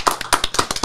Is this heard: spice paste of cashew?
no